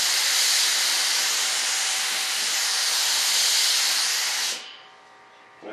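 An aerosol spray can lays a tack coat of paint on an RC F-105 Thunderchief jet model, giving one long steady close hiss that cuts off abruptly near the end.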